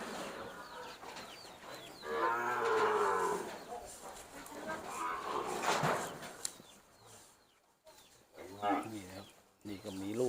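Cattle at a Thai cow and buffalo market in Wang Prachop, Tak, with a cow and calf pair among them, lowing in deep drawn-out moos, one early and another near the end, under steady crowd chatter and someone talking nearby.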